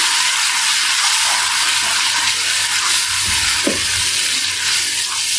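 Spices stirred into sizzling mutton in a pan, a steady broad frying hiss with a couple of brief scraping stir strokes near the middle, no voices.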